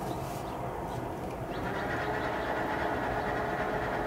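Electric motor in a VW Bus EV conversion revved in neutral with a sloppy drivetrain, giving a steady, fairly loud whirring drone that gains a faint higher whine partway through, with no talk.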